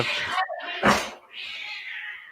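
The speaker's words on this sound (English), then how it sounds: "you have cats? Good grief. Sounds like a back alley fight out there." Cats fighting and caterwauling, with drawn-out yowls, a sharp hissing burst in the middle and another sustained wail, all loud and close with no speech.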